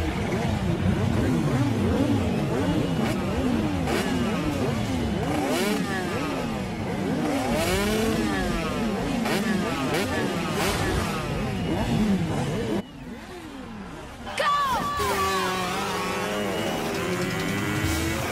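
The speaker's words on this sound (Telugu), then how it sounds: "వీడవరా బైక్ ఎత్తుతున్నాడు?" A motorcycle revs hard in repeated rising and falling sweeps as the rider lifts it into a wheelie, loud and close, with voices talking over it and a brief drop in level near the end.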